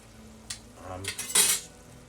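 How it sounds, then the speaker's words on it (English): Meat sauce for spaghetti being stirred in a pan, with a few soft utensil scrapes and clinks against the pan over a faint sizzle, close and brief, with no talking. "Keep stirring, basically."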